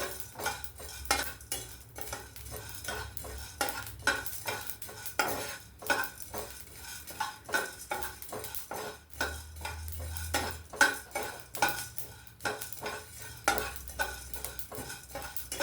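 Okra curry with fresh ginger is stir-fried in a pan, with a soft sizzle under rhythmic, repeated clinks and scrapes of a spoon against the pan that continue at close range.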